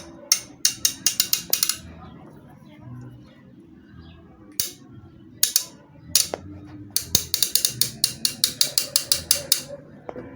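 A tool works loose a welded part on a centrifugal water pump, making rapid bursts of sharp metallic clicks like a ratchet, in clusters separated by short pauses, close and fairly loud over faint background.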